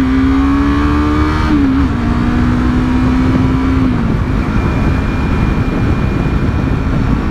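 A manual-transmission car driving steadily, its engine note holding level and then dropping in pitch as a gear change comes through, with continuous road and engine rumble from inside the cabin and no talk.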